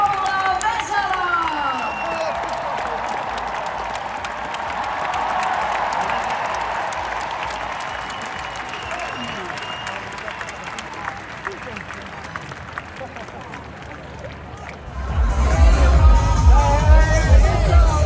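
A large crowd at the Leijonien kultajuhla 2026 celebration applauds Paula Vesala, a sustained wash of clapping and cheering with a voice over the amplified sound system at the start, ending in a deep, rumbling swell.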